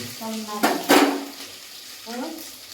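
Mustard seeds hit hot oil with two sharp crackling bursts that fade into a soft sizzle, while someone talks over the cooking.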